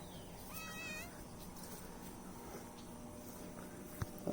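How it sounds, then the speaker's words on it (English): A cat meows once, short and fairly clear, outdoors near backyard ponds, over steady low background noise. "Oh, there's my cat."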